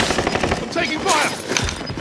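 Rapid automatic gunfire rattles in a Call of Duty Warzone match, a dense burst of shots running through the whole stretch, fairly loud and close, with game voice lines over it.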